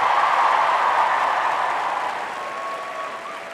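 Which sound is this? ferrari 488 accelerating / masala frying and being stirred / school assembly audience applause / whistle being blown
school assembly audience applause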